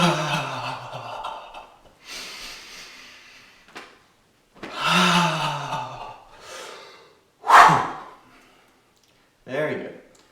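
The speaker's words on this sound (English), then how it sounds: "So 3 deep breaths." Several slow, deep breaths come in separated bursts, airy inhales and exhales with pauses between them, close and fairly quiet, part of an energy-clearing shaking exercise.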